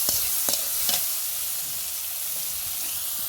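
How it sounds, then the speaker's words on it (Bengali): Steady crackling sizzle of soya chunks frying in oil, with a few light stirring scrapes early on, close and unbroken. "ওর জন্য সয়াবিন গোটারা ভাজা হচ্ছে"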